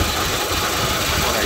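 Steady, smooth idle of a 2004 Mitsubishi Jolie's 2.0-litre turbocharged engine, heard close up as an even, continuous hum with no voices.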